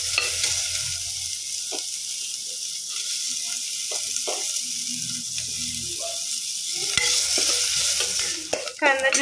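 Chopped onion sautés in a pan with browned ginger, a steady close sizzle of frying oil with occasional stirring scrapes and clinks, without talk.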